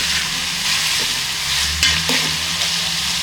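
Snail meat frying in oil in a village-style pan, a steady close sizzle with a few stirring knocks, no voices.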